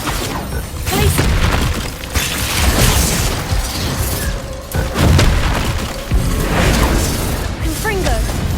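Explosive Bombarda spell blasts in the Hogwarts Legacy game, a series of loud booming bursts with crackling debris, mixed with other spell effects and continuous game noise, with voices over parts of it.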